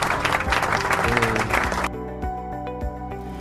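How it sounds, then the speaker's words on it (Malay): Classroom applause for a pupil during a primary school moral education lesson, a burst of clapping that cuts off sharply partway, leaving a quieter tail with faint taps and background sound. "Beri tepukan kepada murid tersebut"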